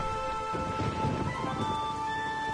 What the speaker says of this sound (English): Something's got to be done. About the storm.